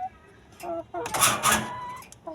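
Laying hens cluck nearby in short repeated calls, a few clearly separated clucks followed by a louder, busier flurry in a backyard coop.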